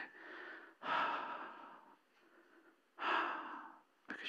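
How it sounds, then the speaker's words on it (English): Heavy, labored breaths as if in pain: two long, loud ragged exhalations with quieter drawn-out breathing between them and a third starting at the end, close and alone. "Or even just breath or breathing like"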